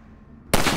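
A sudden loud rifle blast in Half-Life 2: Episode One, breaking in after a quiet low hum and ringing out with a sharp, close, bright report and no voices.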